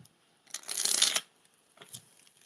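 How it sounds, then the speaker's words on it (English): A deck of tarot cards is shuffled up close, one quick riffling burst followed by a softer shuffle, quiet otherwise with no talking. "So we're going to shuffle the tarot"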